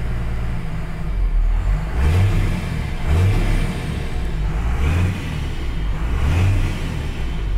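Straight-piped Dodge diesel truck engine with muffler on, revving repeatedly in a rising and falling rhythm, a steady deep rumble running throughout with a faint turbo whistle above it.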